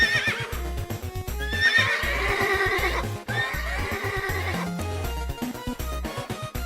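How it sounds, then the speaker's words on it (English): Horses neigh and whinny in a loud, drawn-out series of shrill calls, with a rhythmic clip-clop of hooves thudding underneath, close and alone with no voices. "I turned this into neighing ASMR"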